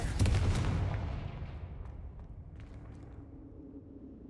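A Confringo fire spell blasts off in the Hogwarts Legacy video game, a loud booming burst at the start that rumbles and decays over several seconds.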